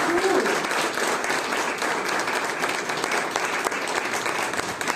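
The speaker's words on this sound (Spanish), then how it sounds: "Dale un aplauso al Señor" A church congregation applauds, a dense, steady wash of clapping that fills the whole stretch at an even level, with no one talking over it.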